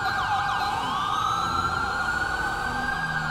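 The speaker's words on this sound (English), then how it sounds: "because I hear a siren." Police siren from the video game GTA V with the LSPDFR mod, a loud, continuous wailing tone sweeping up and down steadily over a low engine rumble.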